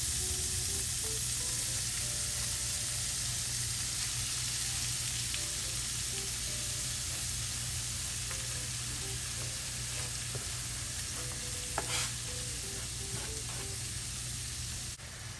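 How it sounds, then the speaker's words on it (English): Ground beef browning in a frying pan for shepherd's pie, a steady loud sizzle filling the whole stretch with faint stirring scrapes and small clinks on top, no talking. "So now you want to make sure you brown the beef"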